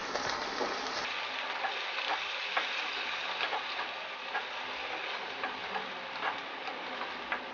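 Boneless chicken with ginger garlic paste is stirred in a pan, giving a quiet continuous sizzle with light, regular scraping and ticking strokes of the spoon.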